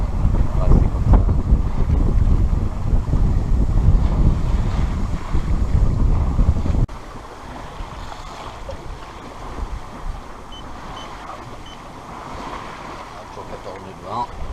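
Heavy wind of about 14 knots roars against the microphone on a sailboat at sea moving at 6 knots, then drops to a softer steady rush of air and water, with voices faintly underneath.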